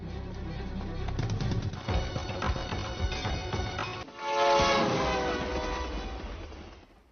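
A train rumbles past with clattering wheels, then a loud, sustained horn blares over the noise before fading out.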